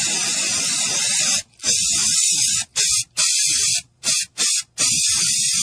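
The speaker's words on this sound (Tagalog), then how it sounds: "Human ako i-spray direkta sa lamok, langaw ug ukok." An insecticide aerosol can sprays in a series of hissing bursts, several short and a few longer, separated by brief pauses.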